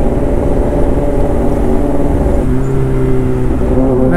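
Steady engine drone from a superbike racing on a road, loud and close, with pitch shifting upward partway through as it accelerates.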